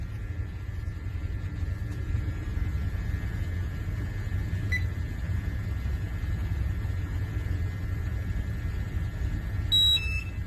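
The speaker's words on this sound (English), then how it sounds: "You can hear the alarm going off." A portable gas detector, set off by an oxygen-deficient hazardous atmosphere, sounds a faint, steady high electronic tone above constant low rumbling background noise, with a brief louder chirp near the end.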